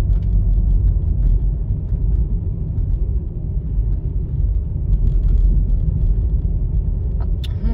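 Cars in slow road traffic, a steady, loud low rumble of engines close by that continues throughout, with a faint high squeak near the end and no talking.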